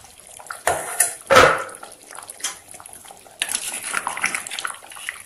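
A metal lid comes off a pot of drumstick and potato curry kurma that has been simmering for ten minutes, with a few close clanks and scrapes followed by a soft bubbling, hissing wash.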